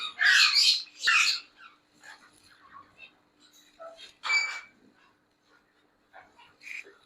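An exotic breeder pair of pet birds squawks in loud, harsh bursts, two close together at the start and another later, with softer chirps and calls in between.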